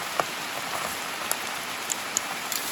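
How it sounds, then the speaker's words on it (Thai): Steady rain falls in a forest where red mushrooms are being gathered, a soft continuous patter with a few sharper drops standing out close by. "ฝนตก ฝนตก"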